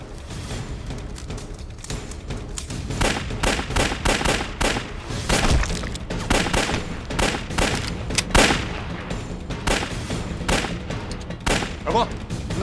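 Rapid bursts of rifle and machine-gun fire in a war film set during the war against Japan, volleys coming thick and loud for the whole stretch with near and distant shots overlapping.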